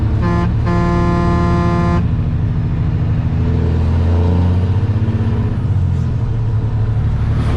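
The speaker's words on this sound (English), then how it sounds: "You gotta give him the honk." A loud Peterbilt truck horn blasts in two short toots then one longer honk, followed by a heavy diesel engine idling close by.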